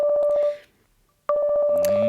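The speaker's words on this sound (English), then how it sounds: "Unless I'm mistaken, I believe that's your phone." A phone in the Obey Me Nightbringer video game rings with a steady electronic beep tone that breaks off for a moment and then resumes, clear and close.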